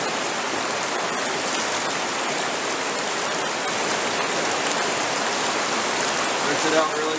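Water gushes through a fluid bed gold trap being rinsed out, a loud, steady rushing and splashing that holds evenly throughout, with a voice faintly present beneath it.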